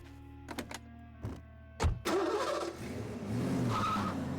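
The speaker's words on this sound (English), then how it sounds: "use that noisy tractor of yours to tow my car" A heavy tractor engine, in a cartoon, turns over after a few clunks and mechanical whines, then catches and settles into a steady, rough running rumble.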